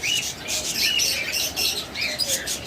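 A pair of pet lovebirds, the female moulting, giving rapid harsh squawks and chirps in close, repeated bursts over a few seconds.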